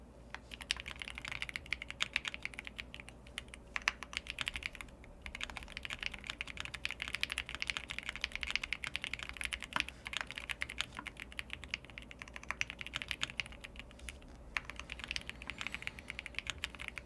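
Rapid, steady typing on a computer keyboard during a short TypeRacer warm-up race, a dense stream of close, crisp keystrokes that runs alone and unbroken throughout.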